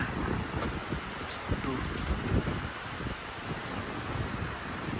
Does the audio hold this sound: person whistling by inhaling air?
no